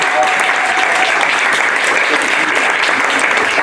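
An audience at a stand-up comedy show applauds, a dense, even wash of clapping from a full room that holds steady throughout.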